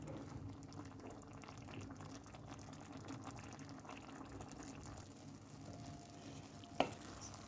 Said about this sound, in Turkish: Ağzını kapatalım. Pilavımız kaynasın.